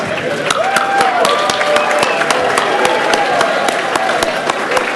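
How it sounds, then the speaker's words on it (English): Sustained applause at a Marquette University School of Dentistry graduation luncheon for the class of 2019, dense steady clapping from a large crowd with murmured voices mixed in throughout. "please join me in applauding our graduates, the class of 2019"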